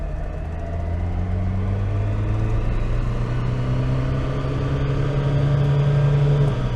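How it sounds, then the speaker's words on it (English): A 1980s Citroen BX TZD turbo diesel engine runs flat out on a dyno, a loud steady drone with a rising harmonic whine as the turbo spools up, sustained throughout with no talk. "turbo lag, turbo lag. There's the turbo."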